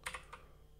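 Quiet typing on a computer keyboard, a few soft clicking keystrokes in a quick cluster, then faint room noise.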